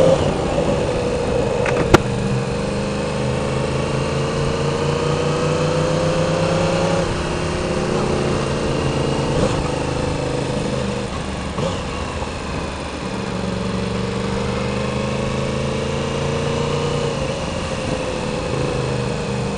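A small motorcycle engine drones steadily as it rides along, its pitch rising and falling with changes in speed, close and loud throughout.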